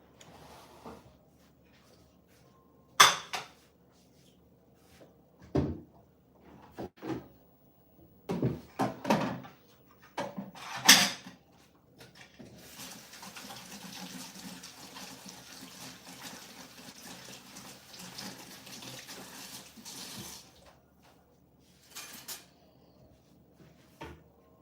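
A kitchen tap runs into a mixing bowl for about eight seconds, a steady wash of water, set among sharp clatters and knocks of handling dishes and cupboards before and after.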